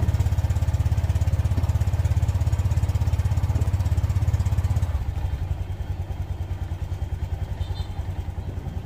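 A scooter engine with a freshly cleaned CVT, its stock centre spring upgraded, idles steadily and close by with a rapid, even putter; partway through, the engine note drops a little lower and quieter and settles into an idle.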